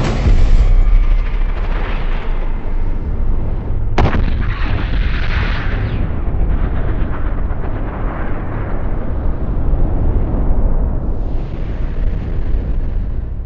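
Det cord detonating down a gun barrel, heard as a continuous loud, dense roar and rumble, with a sharp burst partway through.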